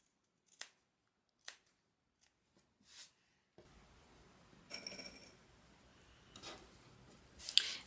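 Scissors cutting the bottom corners of a sewn fabric bag: a few crisp, isolated snips close up, then rustling fabric handling and another sharp click, with no talking.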